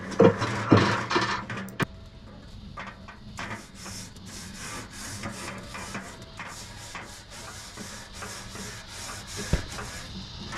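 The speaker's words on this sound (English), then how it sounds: "I'm going to go ahead and get my grates cleaned off here, make sure we don't have any lingering sawdust" Smoker grill grates scraped clean of leftover sawdust, a steady rough rubbing and scraping that runs throughout, close and fairly loud, with a few sharper knocks and clanks early on and near the end.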